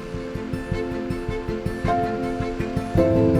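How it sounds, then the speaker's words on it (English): A tractor with a flail mower on the back cuts rank, dense wetland vegetation, a steady mechanical drone with rhythmic thumping pulses and a rising whine, close and continuous without talk. "I'm out cutting with the tractor, with the flail on the back."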